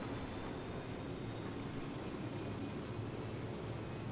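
A helicopter in Ghost Recon Wildlands in flight, a steady broadband rotor and engine roar held constant throughout, even and unbroken, with no voices.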